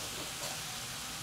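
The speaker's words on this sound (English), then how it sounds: "And you can hear that just boiling away." Steady broadband hiss and bubbling of a cinnamon, nutmeg and vanilla fruit sauce boiling in a pan, close and continuous, with no voices.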